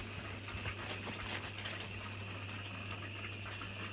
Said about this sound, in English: I just spent a few minutes running some water over Jaiman's low porosity hair